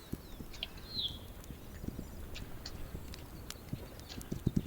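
Horse hooves clip-clop steadily on the ground in the video game This Land is My Land, a rhythmic stream of soft knocking steps close by, with faint ambient noise and a brief bird-like chirp.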